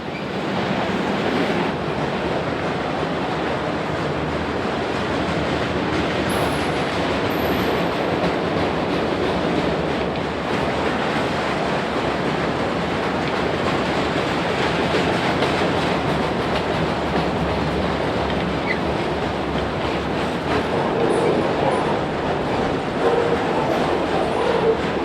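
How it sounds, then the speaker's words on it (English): A westbound freight train of autoracks rolls along the IHB line, a steady, even rumble with soft clickety-clack running throughout, fairly close and unbroken, with no voices. "More westbound racks trundle down the IHB"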